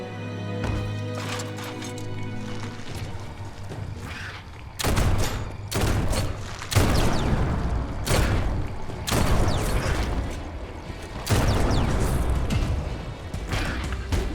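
Repeated bursts of heavy close-range gunfire from the Biomutant video game, loud booming volleys arriving in clusters after a quieter mechanical opening, with brief gaps between blasts.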